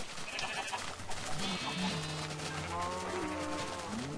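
Minecraft sheep bleat several times in a row, wavering nasal game sounds that overlap one another, heard over steady background game noise with no talk.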